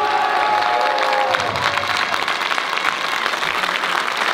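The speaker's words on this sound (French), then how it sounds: "un tonnerre d'applaudissements pour Arnaud" Fans at a Kaamelott viewing event give Arnaud loud, close applause with some cheering and crowd noise, clapping dense at first then thinning slightly toward the end.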